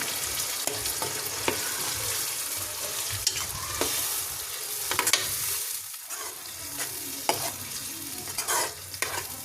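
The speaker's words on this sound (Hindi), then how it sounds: "अब इस मसाले को हम जब तक भूनेंगे जब तक इसका कच्चापन न निकल जाए।" Spice masala for bhindi roasting in a pan, a steady crackling sizzle with repeated spatula scrapes and stirring knocks at irregular intervals, close up and without speech.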